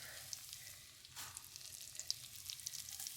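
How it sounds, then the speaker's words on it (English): Steady, quiet sizzling and crackling of shrimp frying in a hot pan, with small pops scattered throughout and no talking. "You want to hear that little sizzle."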